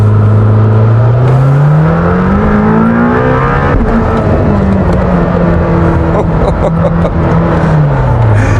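Lamborghini Temerario V8 revving hard on winding, hilly Italian roads, pitch climbing and falling through gear changes as the engine pulls high, loud and continuous throughout with a rushing road and wind roar beneath.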